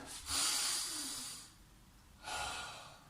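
Deep, forceful breaths taken during a home workout for children and families, two long airy exhalations separated by a short pause, close and fairly loud with no talking.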